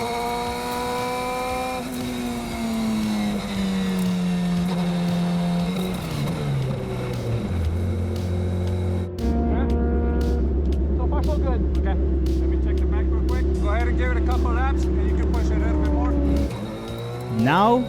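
A Radical race car engine revving hard around 8,000 RPM on a track during a brake bedding lap, loud and close, its pitch sweeping down and then climbing again between gear changes.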